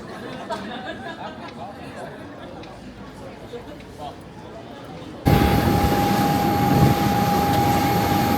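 A busy boarding gate area at Manchester Airport Terminal 2 fills with a murmur of crowd chatter, then a loud steady engine-like roar with a sustained tone takes over partway through.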